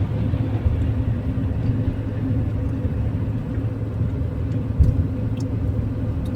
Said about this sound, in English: Is that a Ukrainian truck?